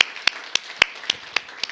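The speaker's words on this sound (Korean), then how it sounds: "우리 하나님 아버지께 우리 감사와 사랑의 박수 올려드리겠습니다" A single person claps during a church worship service, giving about seven sharp, evenly spaced claps close by with near silence between them.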